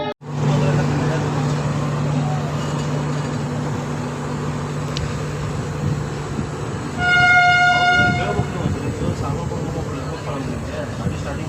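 The Nizamuddin train pulls out of Hubli Junction with a steady, loud rolling rumble and a sustained horn blast partway through. People talk nearby over the noise.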